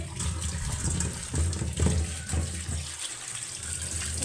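Water runs steadily from a kitchen tap while vegetables are rinsed beneath it, a continuous close splashing gush with small shifts in flow and no talking.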